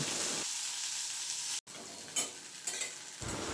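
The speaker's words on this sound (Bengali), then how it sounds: "নাড়াচাড়া করে বরবটিটা ভেজে নিচ্ছি।" Close frying sizzle with stirring scrapes in a pan of chopped yardlong beans, a short sharp break partway through, then continued hissing and clattering.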